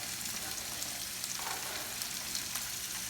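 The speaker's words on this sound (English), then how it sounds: "I put a little bit of olive oil inside the pan, and now I'm just going to put all the vegetables in the pan" Vegetables fry in olive oil in a pan, a dense, hissing sizzle that runs on steadily at a moderate level with small crackles and a faint stirring scrape now and then.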